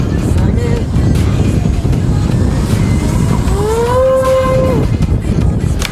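Electric motors on a 3D-printed Arduplane FPV drone plane spin up under throttle, a loud close whine that rises in pitch over a constant noisy rush, with voices talking nearby.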